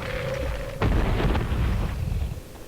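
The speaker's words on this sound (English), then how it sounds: "Magic Missile! Just for grand effect." Magic Missile spell cast against the dragon in Baldur's Gate: Dark Alliance, a sudden loud burst with an explosive boom that rumbles and decays over a couple of seconds, alone with no talk.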